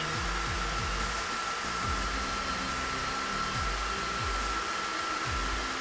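Asymmetric brushless motor spinning at about 2900 RPM and blowing a lot of air: a steady, loud rushing whoosh with a constant whine running throughout, with no talking.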